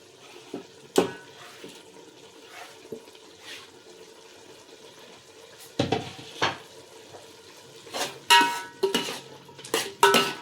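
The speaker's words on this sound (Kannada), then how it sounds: "ಬಾಡಿಸಾದ್ಮೇಲೆ ನಾನು ಅದಕ್ಕೆ ಹಚ್ಚಿಟ್ಕೊಂಡಿರೋ ಟೊಮೊಟೊನ ಆ್ಯಡ್ ಮಾಡ್ಕೋತಾ ಇದ್ದೀನಿ" Tomatoes go into a frying pan for chicken biryani, with soft sizzling under scattered stirring clatter and scrapes of a utensil against the pan, the knocks growing busier toward the end.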